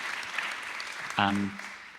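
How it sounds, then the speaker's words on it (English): Youth group audience giving a round of applause with a whoop for their youth leaders at a church testimony, steady clapping throughout with a short loud cheer-like burst near the end. "little round of applause, little whoop"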